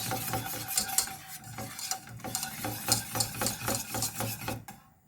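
A whisk beats rapidly against a pan of cheese sauce, producing quick rhythmic metallic scrapes and clinks over a soft simmer, fading out at the end.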